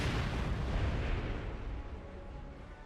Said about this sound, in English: Was that a mine that went off or something else? Just the mortars.